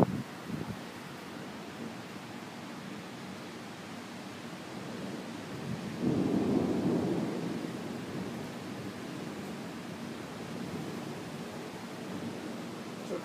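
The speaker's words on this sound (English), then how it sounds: "Comes the rain." A spring storm in Gaithersburg, Maryland, with steady rain hissing as a broad, even wash that swells briefly partway through, with no distinct thunderclap.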